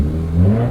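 Subaru-style car engine with an Extreme TI exhaust and Grimspeed catted J-pipe, idling and revving steadily with a deep low drone close to the listener, no talk.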